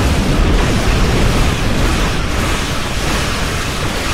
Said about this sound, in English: Aft torpedoes. Fire!